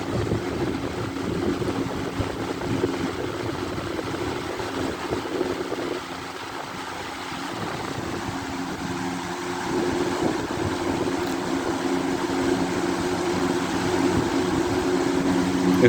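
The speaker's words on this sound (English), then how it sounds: "It's definitely not a quiet fan" A 2003 Lakewood model 225RG Rain Guard box fan runs on high with a loud, steady whooshing drone and a low motor hum that holds unbroken throughout, with no speech.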